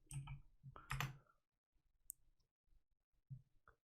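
Sparse clicks of typing on a computer keyboard, a quick cluster of keystrokes up front followed by a few scattered taps in a quiet room.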